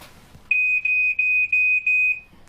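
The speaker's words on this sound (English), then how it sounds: "I'm just going to test your smoke detector, Mary." Smoke detector being tested in a home, giving a piercing high-pitched electronic beep repeated in five short pulses, loud and close, with no voices over it.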